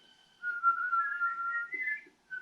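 A person whistles a slow, wavering tune, a single clear tone rising and falling gently, close and alone in a quiet room.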